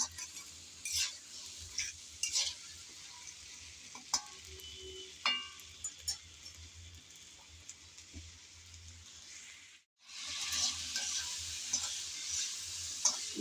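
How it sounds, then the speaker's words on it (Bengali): Mango pieces stirred and fried in a pan for pickle, a constant close sizzle with repeated spatula scrapes and clinks against the pan, a short break near the end before the frying hiss returns strongly. "নেড়েচেড়ে কিছুক্ষণ ভাজার পর আমের কালার কিন্তু চেঞ্জ হয়ে আসলো।"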